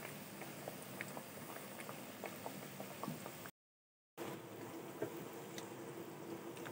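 Chana dal frying in refined oil, a soft steady sizzle with light popping crackles, quiet and close, broken by a brief moment of silence partway through.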